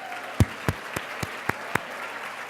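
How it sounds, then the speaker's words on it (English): A handful of separate hand claps ring out one by one in a hall during a women's day breakfast, thanking the hotel staff; the sound is sparse and scattered rather than a full burst of applause. "Let's give the staff a big,"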